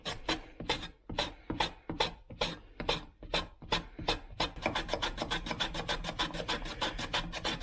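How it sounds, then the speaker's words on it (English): A julienne slicer is drawn across a raw, unpeeled carrot in rhythmic rasping strokes, up close and alone. The strokes start out slow and evenly spaced, then speed up into a rapid, steady scraping. "Now we get our julienne slicer, and we'll do some carrots."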